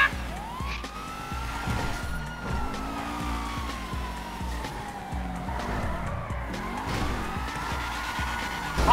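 A police car siren wails up and down in the video game GTA, steady and fairly close, mixed with engine roar and tire skids, with no voices.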